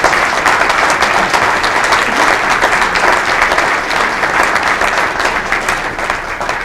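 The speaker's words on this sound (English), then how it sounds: "Could we give a round of applause to all of our candidates?" Sustained, even applause from an audience at a morning civic forum, honouring a panel of candidates, with many hands clapping steadily at close range throughout.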